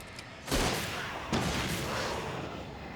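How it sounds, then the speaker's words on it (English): Flare gun fired at a blockade in the Alan Wake video game, two sharp booming bursts about a second apart, each trailing into a long hissing, crackling burn with no talk. "flare gun the blockade again"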